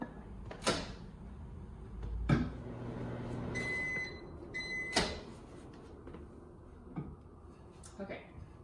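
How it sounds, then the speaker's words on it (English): A microwave oven steams chopped broccoli in a covered bowl: the door thuds, a few electronic beeps sound, then a low hum runs with occasional clunks, all quiet and close. "put it in the microwave for 1 minute"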